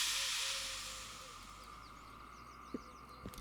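Air brakes on a train in the railway simulator Derail Valley give a long, steady hiss that slowly fades, with a few small clicks near the end and no talk.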